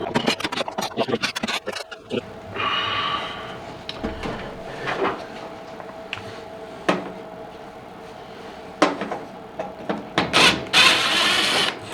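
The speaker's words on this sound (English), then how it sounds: "I think if I take those 5 screws out, the guts will pull out the back of this." Screws are being removed from the casing of an Eden Pure heater by hand, giving close scraping, clicking and rattling metal sounds with brief squeaky turning passages and a clatter near the end, no voices.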